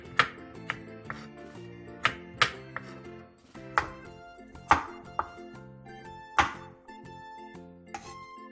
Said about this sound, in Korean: 알밤을 콩의 크기와 비슷하게 잘라주세요.